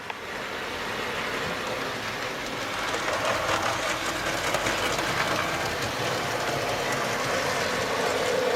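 A model railway parcels train hauled by a black S15 locomotive runs steadily past, a continuous close rolling rumble with faint rhythmic clatter that builds slightly and holds for the whole stretch.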